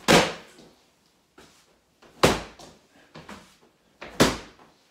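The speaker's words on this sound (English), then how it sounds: "So I'm trying to slam the pillow into the floor as hard as possible." A pillow is slammed hard into the floor during a home workout, three loud, sharp thumps with a few softer thuds between them, evenly spaced about two seconds apart.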